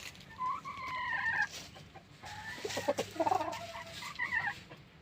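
A three-year-old broodcock rooster clucks and gurgles in a string of short calls, fairly close, with quiet background around it.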